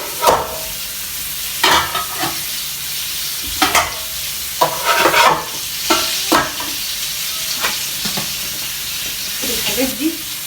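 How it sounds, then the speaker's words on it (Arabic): Chicken fries in a pan at home, a steady background sizzle broken by repeated sharp scraping and clattering bursts of stirring, close and fairly loud, with no one talking. "سيب الفراخ تتحمر"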